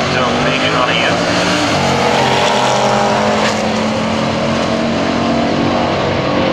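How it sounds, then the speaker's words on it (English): Loud roaring engines at a drag race as a 1970 Challenger with a 340 small block lines up against a big-block Mopar, a dense sustained rumble filling the whole stretch, with an announcer talking over it. "Tom Keenan coming out 70 Challenger 340 small block car."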